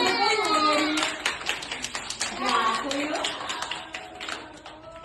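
A small audience, children among them, claps after a finger puppet show, the quick patter of hands running alongside overlapping voices and steady chatter.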